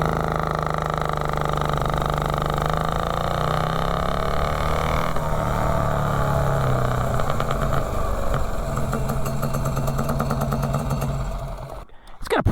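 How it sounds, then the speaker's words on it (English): A mini bike engine fitted with a 7-foot exhaust and a 3-foot intake, running close and loud with a raspy, uneven putter whose pitch dips and rises, then breaks off abruptly in a clatter near the end. "It's got a pretty mean sounding exhaust."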